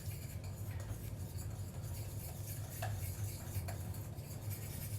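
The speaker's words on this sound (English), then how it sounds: "So just using that same whisk, we're just going to mix all that together" A whisk steadily stirring a chocolate ganache mixture with cocoa in a pot, soft continuous swishing with occasional light clinks against the metal, quiet and without talk.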